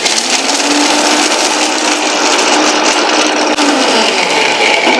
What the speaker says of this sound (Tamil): மிக்சியில போட்டு பவுடர் பண்ணுங்க